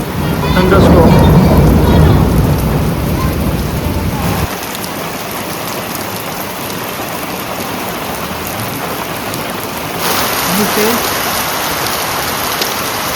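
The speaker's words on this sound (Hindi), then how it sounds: "फेब मंथ की पहली बारिश, साथ में थंडरस्टॉर्म।" First February rain during a thunderstorm, a dense steady hiss of rainfall on surfaces with a loud low rumble early on that drops away, then the downpour continues and swells slightly near the end.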